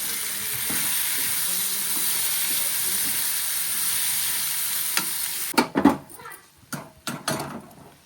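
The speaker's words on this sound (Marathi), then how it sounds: "तर आता इथे जे कांदा खोबऱ्याचं वाटण असतं ना तर ते टाकायचं आहे." Onion and coconut paste frying in a hot pan, a steady loud sizzle for several seconds, then broken by a few sharp scraping and clanking stirs of a spoon against the pan.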